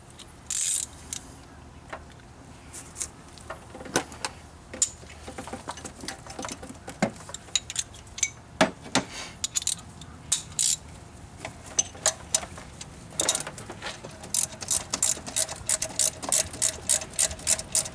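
A Time-Sert thread repair tool, oiled, turned into a spark plug hole to cold-roll the bottom of the threads: close, irregular metallic clicks and ratcheting ticks under low room noise, growing denser and brighter toward the end, with no speech.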